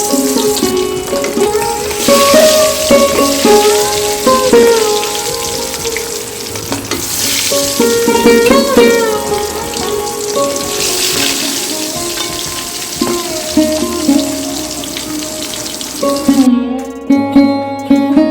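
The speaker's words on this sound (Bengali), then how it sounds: "এখন পদ্মার ইলিশগুলাকে কেটে তারপর ভাজি করব" Padma hilsa fish, cut and rubbed with salt, turmeric and chili, fry loudly in a pan with a continuous close sizzle and occasional stirring scrapes under faint background music.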